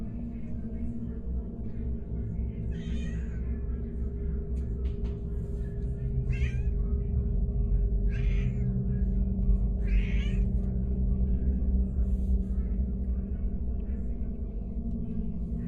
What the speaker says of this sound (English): things got more disturbing when the cat too started acting strange